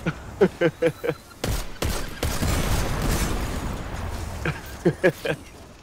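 A Titan smash ability explosion in the Destiny 2 video game bursts loudly and rumbles for about two seconds, framed by quick clusters of sharp gunfire shots before and after.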